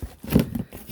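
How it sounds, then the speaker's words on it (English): Scissors cutting into a cardboard box during an unboxing, a brief close scraping and snipping burst in the middle of a quiet second. "I'm taking some scissors."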